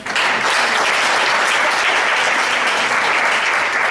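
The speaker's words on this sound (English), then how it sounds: "let's give them a huge applause again" Loud, sustained applause from a large audience at an alumni education forum thanking presenters, a thick, continuous roar of clapping that starts abruptly and stays close and steady throughout.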